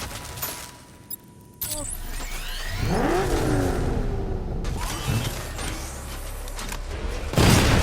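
The Batmobile in Batman: Arkham Knight roars and accelerates, engine whine sweeping up in pitch amid crashes and booms, loud and close with some game voices mixed in.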